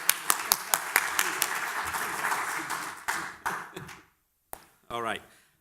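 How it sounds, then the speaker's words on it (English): Audience at a cyber security panel discussion applauding the panelists, a short burst of scattered clapping that builds and then fades, followed by a brief spoken voice. "what about a round of applause for the panelists"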